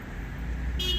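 A passing car's horn toots briefly near the end at a Scientology protest in New Haven, over a steady low hum of road traffic.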